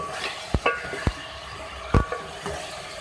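Beef karahi frying in a handi, with a low steady sizzle and several sharp clinks and scrapes of a spoon stirring against the pot, close by.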